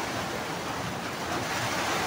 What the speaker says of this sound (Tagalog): Pagka ganitong maulan, naglalabasan ng mga tulo sa bubong